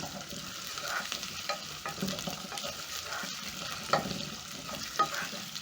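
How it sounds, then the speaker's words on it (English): Potatoes stirred into a frying vegetable stew pot, a soft continuous sizzle with quiet scraping strokes of the spoon, fairly faint and free of talk. "So I'm going to add in my potatoes, stir in the potatoes."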